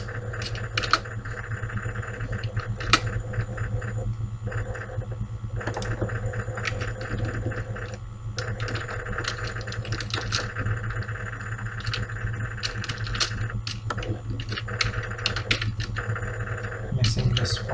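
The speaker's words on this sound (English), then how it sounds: "which I'm gonna type right now" Steady computer keyboard typing while entering JavaScript page-validation code, with clustered keystrokes in an irregular rhythm over a constant low hum, close and moderately loud throughout.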